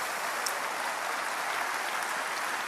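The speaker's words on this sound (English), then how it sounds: "Let's give the Lord a clap offering in his house today." A church congregation claps steadily in a dense, sustained wash of applause, even and continuous throughout, with no speech.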